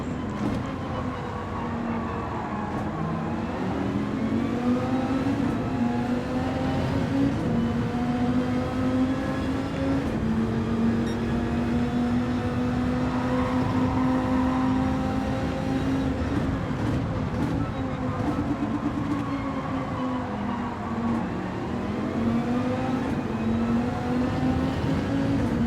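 Race car engines in a Daytona racing video game drone continuously, their pitch rising and falling with shifts and acceleration over a steady rumble of nearby competing cars.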